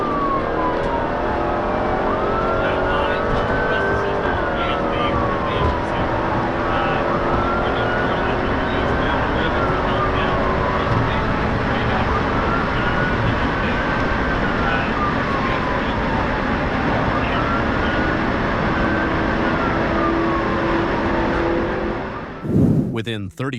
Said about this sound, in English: The supercharged V8 simply has too much power.